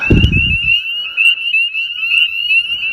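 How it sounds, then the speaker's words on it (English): A frog calls at the start with a brief rough croak, then a high steady trilling chorus of frogs carries on alone at close range, heard from a porch. "we sit on the porch and listen to the frogs"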